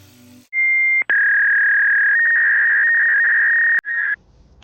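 A rotary polishing tool works a Lake Superior agate stone, a loud, steady high whine that starts, dips briefly, then runs continuously before cutting off, with faint grinding scratches as the stone meets the wheel.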